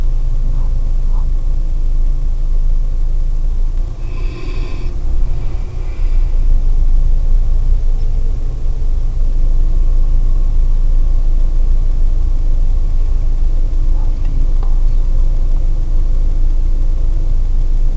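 A car engine idles at a standstill in Nigerian traffic, a steady low rumble filling the cabin with little variation throughout, only a brief faint disturbance around the middle.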